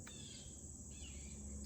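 Faint, distant bird calls come from back in the woods over a steady high insect-like hum, with no one speaking.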